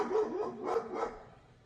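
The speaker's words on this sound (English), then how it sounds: "Max is gonna start barking" Max the dog barks in three short bursts, close by and moderately loud, each a quick pair of barks with a brief gap before the next.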